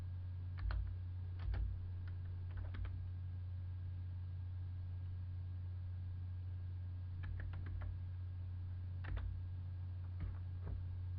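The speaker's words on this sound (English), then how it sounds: "So I will type in our next barcode," Barcode digits are typed on a computer keyboard as a few short bursts of clicky keystrokes, close by, over a steady electrical hum.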